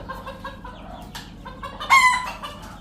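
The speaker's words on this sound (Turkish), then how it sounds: "Evet şu an horozun birini yakaladık." A rooster clucks and squawks loudly as it is grabbed, with agitated calls rising to a sharp burst near the end, close by with no talk.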